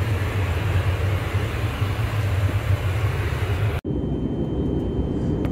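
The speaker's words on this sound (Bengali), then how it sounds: "এখন দেখলেন তো কেমন আওয়াজ হয় বাতাসের" Steady broadband roar of airplane cabin noise during a Dhaka to Moscow flight, loud and constant with a low rumble, broken by one abrupt cut after which the roar continues slightly muffled.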